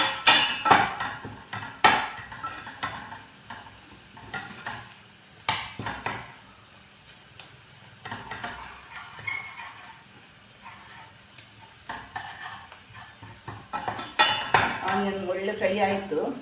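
Onion frying with spices for bakery-style samosa filling, a spatula clattering and scraping against a metal pan in irregular bursts over a light sizzle, close and fairly loud with quieter gaps.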